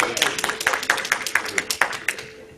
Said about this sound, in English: Let's give Gilbert a round of applause.